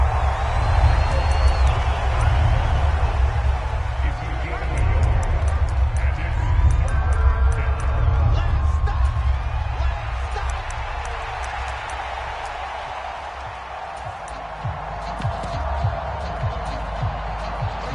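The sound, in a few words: crowd cheering in an American football video game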